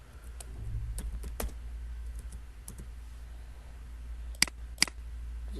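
Computer keyboard typing a name, a few sparse key clicks spread across the span, with two sharper taps near the end, over a steady low room hum.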